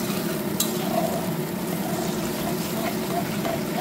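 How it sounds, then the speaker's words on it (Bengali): A homemade ground spice paste fries in oil in a pan, a dense bubbling sizzle with stirring, loud and close, filling the short stretch without pause. "সেই পেস্টটাকে ভালোভাবে কষিয়ে নেব"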